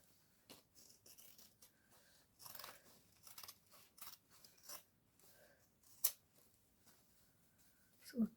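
Scissors snip through fabric to cut out a zip on a sewing project, a series of quiet, crisp cutting crunches and rustles at an irregular pace, close and faint, with no talk.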